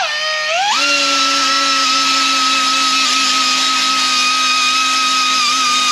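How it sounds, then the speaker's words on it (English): An angle grinder fitted with a wheel pad strips silicone from a Jeep Wrangler YJ, spinning up with a rising whine and then holding a loud, steady, high-pitched tonal drone close by, with no talking. "I'll just peel this off with a Ziz wheel pad and an angle grinder."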